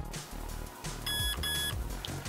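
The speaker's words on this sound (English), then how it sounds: "we're gonna hear some beeping coming from the engine" Two short electronic beeps from a Traxxas XL-5 electronic speed control on an RC car, entering programming mode, close and clear over a low background hum.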